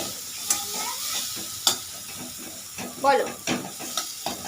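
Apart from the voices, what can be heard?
spice paste being stir-fried in a pan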